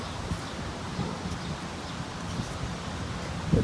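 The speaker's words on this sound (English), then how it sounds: "The wind blows more" Wind gusting across an outdoor spot on a dry day, a steady soft rushing with rustling and light buffeting, no voices.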